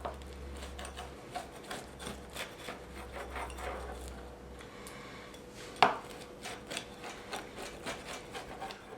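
A freshly baked cheesy stuffed crust pizza is sliced, with repeated rhythmic rasping cuts through the crust and one sharp clack of the cutter against the pan, fairly quiet.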